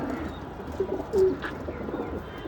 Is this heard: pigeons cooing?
yes